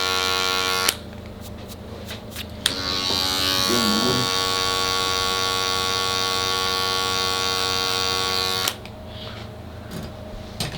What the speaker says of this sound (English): So now it's time to clipper over comb this.